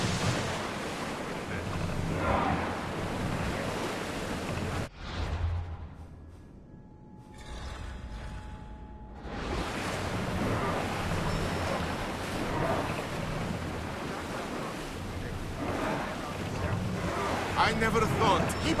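A sailing ship moves across open sea in Assassin's Creed Odyssey, with a steady broad wash of waves and wind, a brief muffled lull midway, and voices talking over the water.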